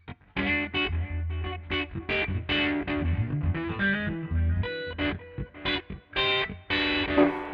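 Fender Custom Shop Double Esquire electric guitar with both pickups on, played as a lively run of picked notes and chords through a driven, effected tone, loud and close with no talking.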